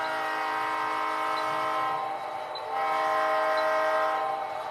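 A model DD40 diesel locomotive sounds a sustained multi-tone horn, loud and steady, with a faint rumbling of running gear underneath.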